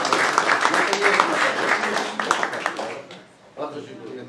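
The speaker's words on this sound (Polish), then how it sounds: "To podwójne brawa." Applause from the audience at a town council session in Słomniki, a dense patter of clapping mixed with talking that fades after a few seconds before voices resume.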